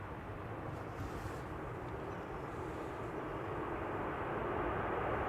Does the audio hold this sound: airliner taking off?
yes